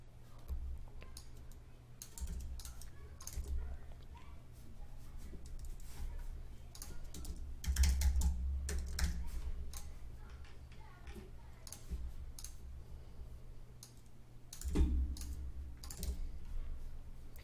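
A web search being typed on a computer keyboard, heard as a faint, quick string of key clicks over a low background hum, with a few louder taps in the middle.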